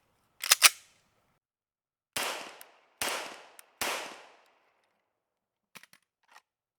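A Langdon Tactical-tuned Heckler & Koch MK23 pistol fires double action: a sharp early crack, then three loud, evenly spaced reports with short echoing tails, followed by faint clicks.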